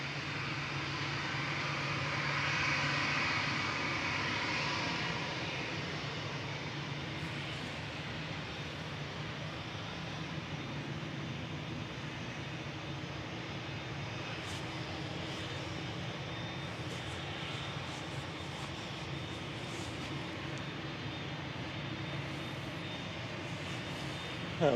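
Ryanair or Aer Lingus airliner at Manchester Airport, a broad steady jet roar swelling slightly early on then holding, distant and sustained, with faint voices in the background.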